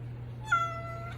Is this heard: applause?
no